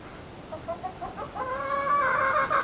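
Chickens in a chook run on a permaculture farm cluck in soft, quick clusters that build into louder, drawn-out calls, close by and with no voices.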